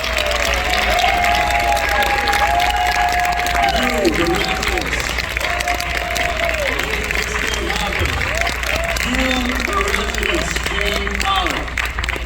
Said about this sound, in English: you owe yourself a round of applause